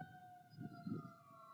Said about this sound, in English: That was a fire truck earlier. Now this is an ambulance.